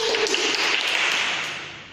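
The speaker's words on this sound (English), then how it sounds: "Let's clap our hands." Audience clapping for a student presenter at a class presentation, a brief steady wash of applause that gradually fades over two seconds, with no talking.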